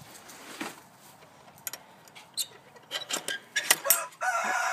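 A rooster in a backyard garden coop crows at moderate distance, with short clucking bursts and farmyard rustling in between, the strongest calls coming toward the end.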